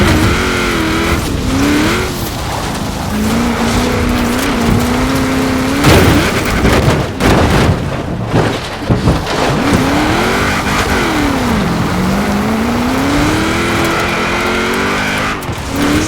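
A car engine revving and roaring through gear changes while driving in the video game Forza Horizon 4, loud and continuous, its pitch rising and falling, with rumbling background noise throughout.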